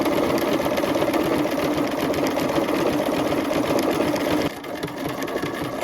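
Sewing machine stitching a watermelon-print fabric piece, running at a steady, continuous fast whir with dense mechanical ticking throughout, close and loud, easing slightly near the end.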